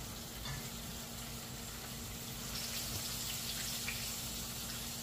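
A lobster tail fries in a pan with a steady, close, continuous sizzle that swells slightly louder halfway through, with faint crackles and no talking.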